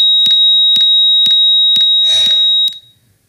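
Computer beep tones generated with Python's winsound module, six evenly spaced sharp clicks riding on one continuous loud pure high tone that stops abruptly near the end.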